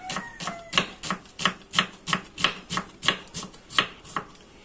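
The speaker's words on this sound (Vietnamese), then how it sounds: "Mình sẽ cắt hành tây ra." Knife chopping onion on a cutting board at home, a steady run of about a dozen crisp, evenly spaced chops, close and clear, with no talking.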